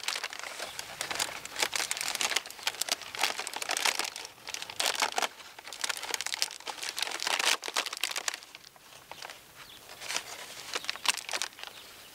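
A paper bag crinkles and rustles as it is tied over a corn tassel in a field to collect pollen, with dense, continuous close-up crackling in irregular bursts throughout.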